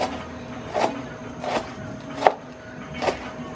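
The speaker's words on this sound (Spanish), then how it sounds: "Picamos bien picado." Knife chopping food finely on a board, four evenly spaced sharp thuds close by over a low steady background hum.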